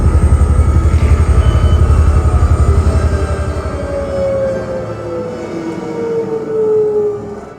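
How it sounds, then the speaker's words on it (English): The Marine One presidential helicopter comes in to land on the White House South Lawn, a loud, rapid rotor thump that eases into a lower, fading whine as it settles. "the South Lawn is about to serve one of its most important roles, the landing pad for Marine One"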